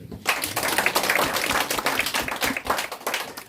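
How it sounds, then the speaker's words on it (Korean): A church congregation claps at a fifteenth-anniversary thanksgiving service, a close, uneven flurry of individual hand claps rising and falling in quick bursts. "박수 한번"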